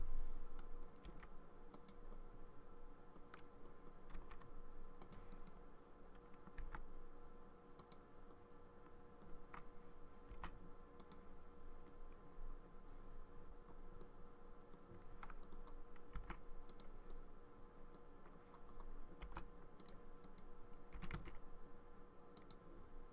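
Computer keyboard typing during 3D modeling work in Blender, a continuous run of quick clicks and taps at irregular rhythm, faint and close against low background noise with no talk.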